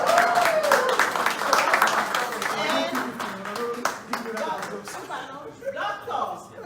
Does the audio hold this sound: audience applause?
yes